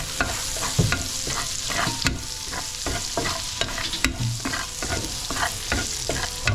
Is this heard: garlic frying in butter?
yes